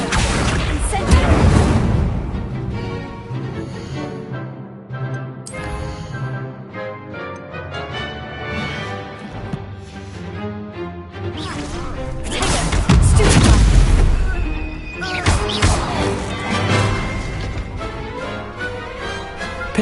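Spell combat in Hogwarts Legacy on PS5, with the Incendio fire spell cast during a dueling tournament. Booming blasts, whooshes and crashes ring out over a game score, with loud bursts near the start and again around the middle.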